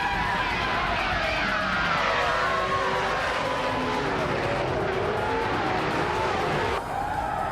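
1998 Ferrari F300 race cars at Hungaroring in a racing video game roar continuously with high, loud engine whines that rise and fall as they pass, with tire squeal and a voice talking over them.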